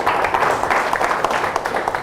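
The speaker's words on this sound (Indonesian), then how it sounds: "Tepuk tangan buat Ibu Tuti." A room of people applauds Ibu Tuti with dense, close clapping at a steady level throughout.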